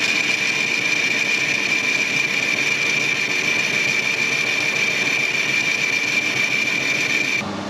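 A broaching machine cuts a keyway with a half-mil pass, giving a steady, loud mechanical drone with a constant high whine that runs unbroken for about seven seconds before easing off.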